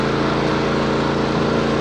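Steady, droning small engine of a John Deere riding lawn mower running continuously at close range, with no other sounds.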